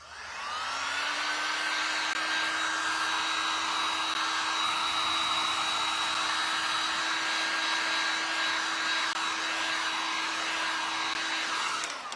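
A heat tool blows hot air onto a rub-on transfer, a steady loud whining whoosh that spins up at the start, holds constant for about eleven seconds, then winds down, with no talk over it.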